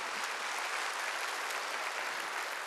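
A church congregation claps hard during a Wednesday worship service, producing a thick, continuous roar of applause from many hands that holds steady throughout without talk.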